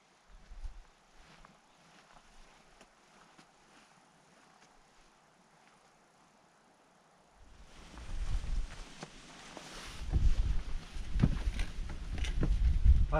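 Wind gusts outside beside a parked van, starting as a faint low rumble and swelling into strong buffeting against the microphone in the final seconds.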